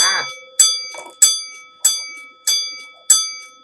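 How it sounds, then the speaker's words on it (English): A bright bell rings six times in an even rhythm, each strike ringing out sharply before decaying, loud and close, with a faint voice at the start. "I'll even give you the bell"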